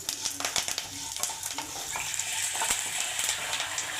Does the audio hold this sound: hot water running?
no